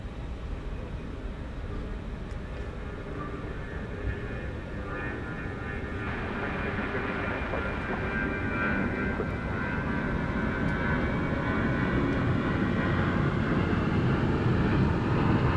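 Jet airliner taking off at night at DFW Airport, a steady broad engine roar that grows louder and fuller partway through and holds, heard from a spotting position with no talk over it.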